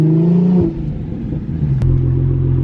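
An Audi car engine drops from a steady idle hum, then revs back up into a loud, sustained drone, with a brief click midway.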